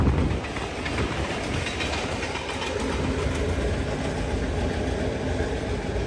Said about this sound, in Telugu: ఆ గూడ్స్ ట్రైన్ చూడండి భలే ఉంది అసలే.